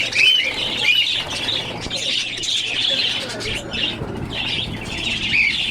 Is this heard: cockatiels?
yes